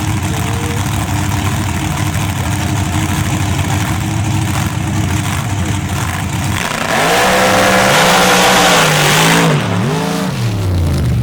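A 1998 Dakota drag racing truck called Kryptonite sits at the line of a dirt drag event, its engine idling with a loud, lopey rumble before it blips the throttle into rising and falling revs.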